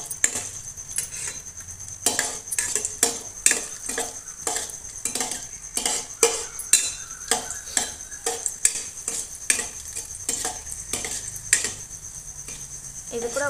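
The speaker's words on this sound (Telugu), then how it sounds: "అలాగే కిస్మిస్ కూడా వేయించుకుందాం" Raisins fry in a pan for pumpkin halwa while a spoon clicks and taps against the metal in a quick, regular rhythm over a soft sizzle, close up and without speech.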